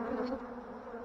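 Honeybees buzzing at a troubled hive colony, a dense close drone with a steady pitch sustained throughout, no voices.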